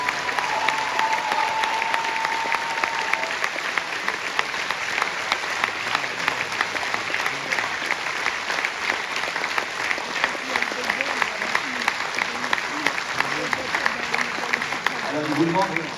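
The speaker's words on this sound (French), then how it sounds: "Donc vous pouvez encore les applaudir très fort." Audience applause after a children's dance performance in Challans, a dense, sustained wash of clapping lasting the whole stretch with crowd murmur mixed in.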